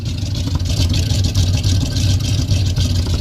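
A 1965 Dodge D100 pickup engine with a big cam idling, a loud, lumpy low rumble with a choppy, uneven pulse, heard up close and alone.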